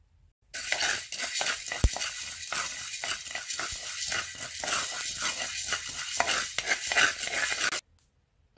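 Coriander seeds dry roasting in a pan for an instant sambar mix, a steady dry hiss broken by frequent scraping stir strokes and light clinks of a spoon, close and without talk.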